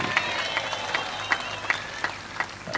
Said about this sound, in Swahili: Tumuongezee makofi tafadhali.